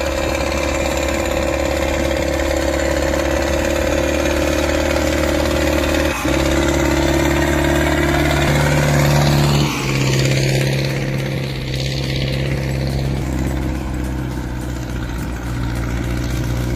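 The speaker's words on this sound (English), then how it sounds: "Listen to the Zetor 7245 turbo tackle that incline." A Zetor 7245 turbo tractor engine labours up an incline with a loud, close, steady diesel drone, its pitch shifting partway through as the load and revs change, with no voices.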